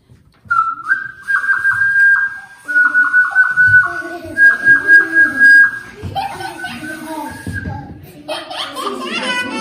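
A Native American-made whistle blows a steady, piercing tone in several long blasts, with children laughing and chattering around it before other voices and noises take over.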